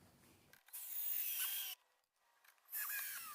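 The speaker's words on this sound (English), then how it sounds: "I'm going to go ahead and drill them into each corner." A power drill drives screws into the corners of a wooden platform under a Shelter Logic tent, with two whirring bursts of about a second each, separated by a short pause, fairly close.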